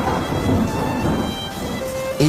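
Cartoon thunderstorm with heavy rain: a steady, loud wash of downpour with low rumbling thunder throughout and a brief sharp accent at the end, no voices.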